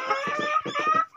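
A hen, one of a backyard flock with several sick birds, gives a quick run of close, loud clucks in a steady rhythm, heard alone without talk.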